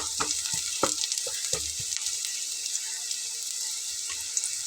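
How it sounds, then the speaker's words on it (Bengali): Onion frying in a pan, a steady close sizzle with a few louder spatters and clinks as it is stirred, no voices. "পেঁয়াজটা কিন্তু বেশ ভালো একদম লাল লাল হয়ে ভাজা হয়েছে"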